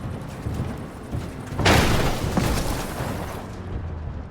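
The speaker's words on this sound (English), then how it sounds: "That is one hell of a storm!" Thunderstorm in Cyberpunk 2077: a steady wash of heavy rain swells into a loud, rolling thunderclap about a third of the way in, then rumbles on under the downpour before easing off.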